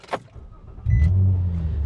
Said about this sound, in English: we're just gonna turn on the car